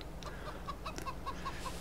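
Chickens in the Farming Simulator 22 game cluck in a steady run of short, evenly spaced calls, moderately close, over a low background hum with no talking.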